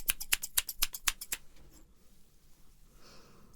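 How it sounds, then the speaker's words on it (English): A quick series of about nine crisp scissor snips in steady rhythm, close up, followed by quiet rustling. "And use these wonderful scissors."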